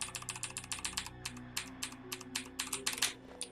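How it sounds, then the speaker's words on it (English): Rapid, uneven bursts of computer keyboard keys being spammed during a glitched speedrun of Resident Evil: Code Veronica X, many sharp clicks close and fairly quiet over a low game hum. "So you might hear me spamming the keyboard a lot."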